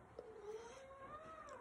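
A domestic cat meows outdoors in one long, drawn-out, rising-and-falling call, fairly faint against a steady background hiss while someone spray paints a scooter.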